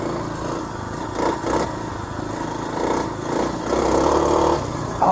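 Kawasaki KLX 300 dirt bike with its secondary throttle plate removed, ridden along a wet grassy trail; a steady engine drone swells as the throttle opens, with clattering and rushing around the bike throughout.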